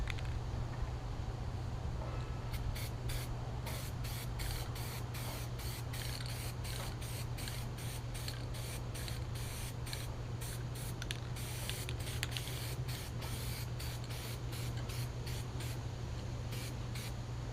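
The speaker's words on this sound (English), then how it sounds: "shoot some primer on these" Spray can primer being sprayed onto parts during a 1966 Ford Galaxie 500 convertible restoration, a steady close hiss running throughout with rapid repeated short bursts over a constant low hum.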